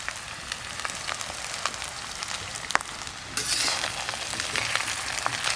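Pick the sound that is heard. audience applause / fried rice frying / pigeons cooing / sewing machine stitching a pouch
fried rice frying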